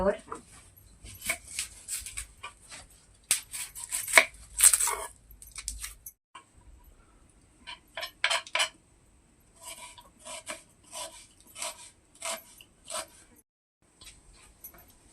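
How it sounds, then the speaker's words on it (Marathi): An onion is chopped with a knife in a home kitchen, giving irregular clusters of close crisp cuts and taps over about fifteen seconds, with brief pauses and someone speaking at points. "कांदा कापून घेऊ आता"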